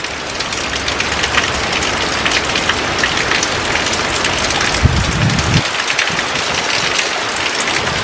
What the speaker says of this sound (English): But it's so good to hear and to see the rain.